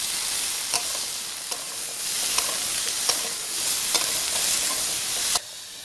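Potatoes fry in hot oil with salt and turmeric, a steady close sizzle broken by periodic scraping stir strokes, ending abruptly near the finish.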